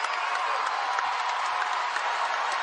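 Basketball crowd at a Washington Huskies home game against Stanford cheering and applauding steadily in a packed arena, a loud, continuous roar of clapping and shouts with no single voice standing out.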